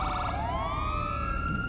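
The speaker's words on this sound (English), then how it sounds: "too many sirens" Police car siren in the FiveM game, loud and close, shifting from a rapid warble into a rising wail that holds steady over a rumbling engine drone.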